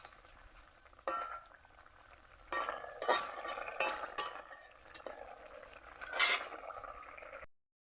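Rohu fish curry with onion stalks is stirred in a pan: intermittent spoon scrapes and metallic clinks over a faint simmer, close by, with no talking.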